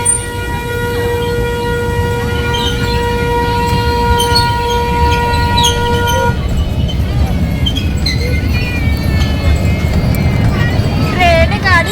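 Train passing close by, a loud steady rumble of wheels and carriages with a sustained horn tone for the first half, on a trip to Baleshwar, with voices faintly mixed in.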